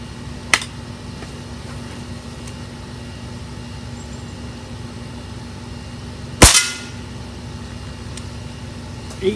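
A Diana RWS 48 .22 air rifle fires a single sharp, loud crack. A fainter click comes before it and another near the end, over a steady low background hum.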